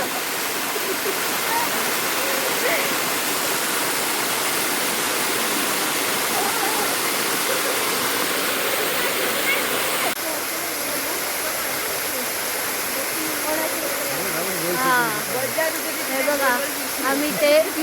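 A village waterfall in Konkan during the rainy season roars continuously, a dense steady rush of water close by, with faint voices near the end.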